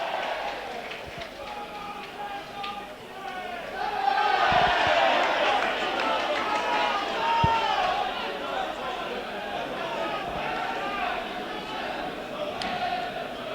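Football crowd at a Blackpool versus Burnley match reacting after a goal, a broad roar of cheering voices that rises, holds and slowly settles, heard from a distance under a commentator's voice.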